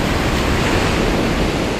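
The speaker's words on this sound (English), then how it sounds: "eventually there is not enough water and the wave collapses." An ocean wave breaks and collapses in shallow water, a steady, loud broadband roar of surf and wash that holds without pause, close by with no voices.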